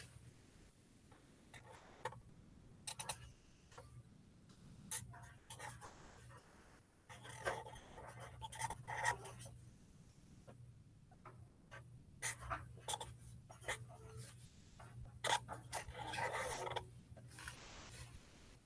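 A child writes letters by hand with a pencil on paper, soft scratchy strokes coming in short irregular bursts with pauses between, close and quiet, with light breathing and faint background noise.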